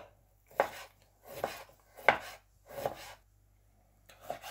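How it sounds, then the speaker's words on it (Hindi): Knife chopping fresh ginger on a board in a home kitchen: five distinct, evenly spaced thuds and scrapes with pauses between, close and clear, with no talk. "अब हम अदरक काट लेंगे।"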